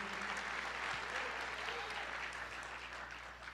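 A church congregation claps in praise: a dense, continuous wash of many hands applauding together, steady and fairly distant, with no single claps standing out.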